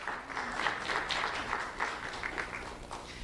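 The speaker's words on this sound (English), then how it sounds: "Let's have a round of applause for Gmr Lopez" Sustained applause from an audience greeting a student award winner, Gmr Lopez, at a school recognition ceremony; steady dense clapping throughout, moderately distant.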